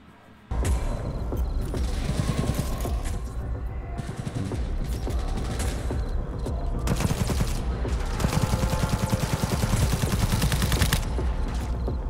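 Smart weapon gunfire in Cyberpunk 2077, rapid bursts of shots and mechanical clatter that start abruptly and keep going in dense, loud volleys.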